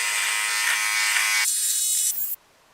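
A Philips OneBlade electric razor shaving a man's face hums with a close, bright buzz that shifts pitch midway and then cuts off abruptly near the end.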